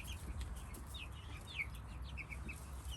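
Chickens cluck and chirp softly in a barn, scattered short calls over a steady low rumble of background noise.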